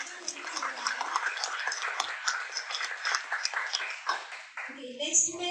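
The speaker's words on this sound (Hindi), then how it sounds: "इस बार के लिए तो जोरदार तालियां एक बार।" An audience at a foundation's core members meeting claps steadily for several seconds as a sustained round of applause. It then thins out near the end, where a voice begins.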